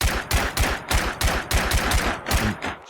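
Krauser gun from the Minecraft Scorched Guns 2 mod fires in rapid automatic bursts, about a dozen loud, close, punchy shots in quick rhythm, alone with no talk.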